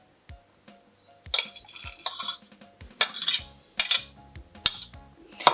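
Lentil salad with coriander being stirred and tossed in a bowl, with utensils scraping and clinking against the dish in several bursts, fairly close and without talk.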